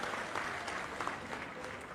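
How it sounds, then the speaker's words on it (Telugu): A large audience applauds steadily at a public gathering in Andhra Pradesh, a continuous mid-level wash of many hands clapping with no break across the whole stretch. "ఆయన గట్టిగా చప్పట్లు కొట్టి అభినందించాలి"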